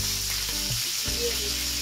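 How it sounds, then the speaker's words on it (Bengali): Pieces of chicken fry in oil with a continuous, loud, even sizzle that holds steady throughout, with no talking. "এখন চিকেনগুলো ভাজা হয়ে গেছে"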